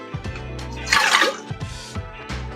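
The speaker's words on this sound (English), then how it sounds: "what we need to do is we need to measure out 2 cups of water." Water is poured into a measuring cup to make two cups for cowboy coffee, a brief splashing gush between low thumps and handling noises close by.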